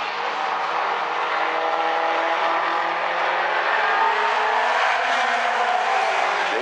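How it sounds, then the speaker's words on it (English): Outlaw Compact race cars in an A-Main at South Sound Speedway, a loud continuous engine roar from several cars running close together, steady throughout with a slight rising pitch near the end. "And so far it's the fireball Nat Barber, but he's got Eric Angelidis right on his rear bumper"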